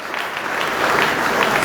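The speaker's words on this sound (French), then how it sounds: "Sous vos applaudissements," Audience applause at a reception for athletes and young judokas, a continuous broad wash of crowd clapping that swells slightly and stays loud throughout.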